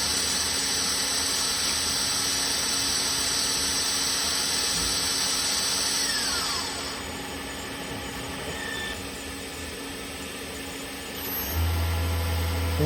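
A live tool on a 2013 Tsugami B0206-II CNC lathe spins at 5,000 RPM, producing a steady high-pitched mechanical whine over a constant machine hum that drops off midway and then changes, with no talking.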